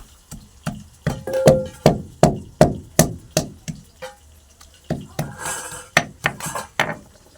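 Jujube plums being crushed one by one on a stone grinding slab (shil-nora), giving a steady run of sharp, close knocks and scrapes at about two per second, with a few quicker, scratchier strokes near the end and no talking.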